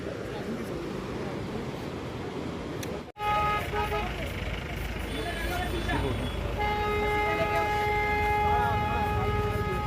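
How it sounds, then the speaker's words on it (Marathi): Congested traffic idles in Mana village near Badrinath, with engines rumbling and several sustained car horns blaring, while people talk over the din. "ट्रॅफिक जाम झालेला आहे माना गावामध्ये"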